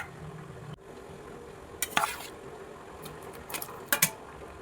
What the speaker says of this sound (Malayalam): ഞാൻ വഴുതനങ്ങ എല്ലാം അതിലേക്ക് ഇട്ട് കൊടുക്കുക.